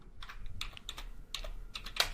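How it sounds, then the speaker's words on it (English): Quiet, close keystrokes on a computer keyboard as text is typed, irregular clusters of soft clicks with no voices. "you just type in the text you want"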